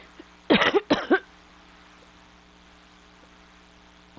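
A character coughs in the Legend of Dragoon video game, a short burst of two harsh coughs close up, then quiet with a faint steady hum behind.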